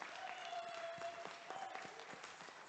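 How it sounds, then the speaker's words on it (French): A church congregation claps and applauds together during a worship service, a steady, distant patter of many hands with a faint sustained tone beneath. "On acclame le Seigneur."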